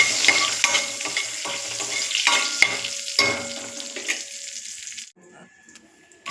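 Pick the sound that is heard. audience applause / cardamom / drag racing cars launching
cardamom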